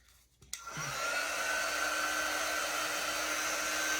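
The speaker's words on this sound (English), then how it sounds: "Let's dry it up one more time." A hair dryer blows on an ink-decorated shirt, switching on after a short click and rising into a steady, close whirring roar that holds to the end.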